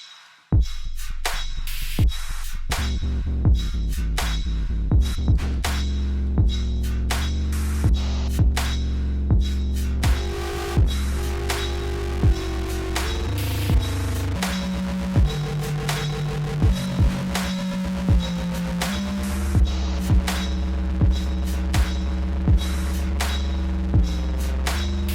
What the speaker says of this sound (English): Okay, let's do some sine waves here.